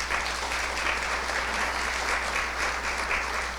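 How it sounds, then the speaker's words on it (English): Audience applause at a tribute event for Lt. General Rick Lynch, a steady, dense clapping from a crowd lasting throughout, with no voices over it. "Round of applause for that"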